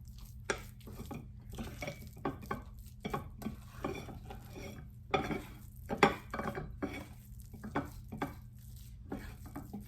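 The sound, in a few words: folding cookies and cream cookie dough in a bowl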